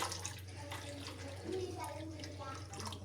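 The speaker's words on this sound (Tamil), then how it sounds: "அதுக்கு இப்போ சுடு தண்ணியையும் சேர்த்துக்கொள்ள போகிறோம்." Hot water pours into a cup of cold water while rice flour puttu is being made, a soft continuous trickle close by with a voice speaking over it.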